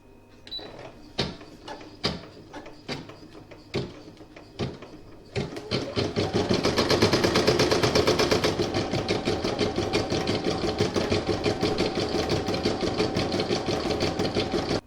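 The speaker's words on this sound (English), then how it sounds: "I'm just going to pop it back in now and stitch out the features" An embroidery machine stitches out the features on a Halloween coaster: a few separate clunks at first, then a dense, rapid, steady stitching rhythm that carries on close and loud.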